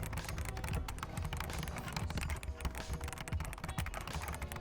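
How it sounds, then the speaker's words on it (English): Fingers type quickly on a Razer Deathstalker non-mechanical gaming keyboard with plastic, matte-coated keys, producing a rapid stream of soft close clicks and taps, uneven in rhythm, with no talking. "here's a quick typing sample."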